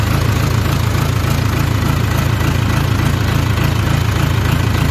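A Case 580K backhoe diesel engine idles steadily with a low, rhythmic knocking chug, loud and close, with no voices.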